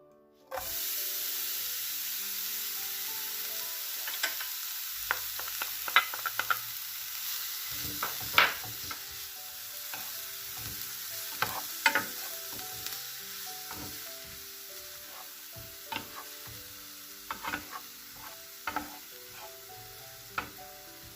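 Onions fry in a pan of heated olive oil, a continuous hissing sizzle broken by sharp intermittent scrapes and clicks of a utensil stirring, close up and alone without voices.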